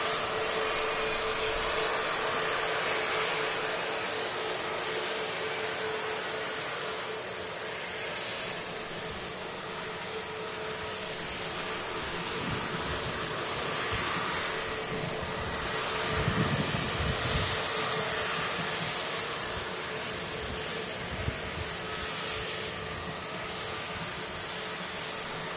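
Distant, steady jet roar of a British Airways Airbus A321 shuttle departing Manchester Airport, a broad airy wash that swells gently and fades, with some wind noise on the microphone.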